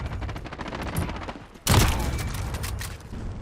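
Dense rapid gunfire in a first-person shooter video game, a continuous close burst that jumps suddenly louder midway and keeps rattling to the end.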